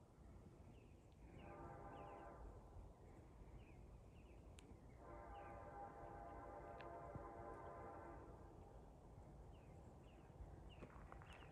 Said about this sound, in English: 8927 with an epic and awesome K5LLA horn